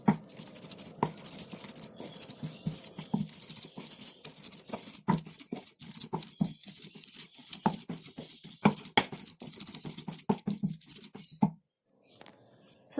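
Cooked, wilted ingredients for tahu aci being ground coarsely, likely pounded with a pestle, give a steady run of soft, close thuds and scrapes, dull and fairly quiet, stopping near the end.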